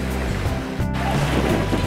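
Sea waves at Plytra beach on a windy day, a brief steady wash of surf close by with a soft swell in the middle and no voices.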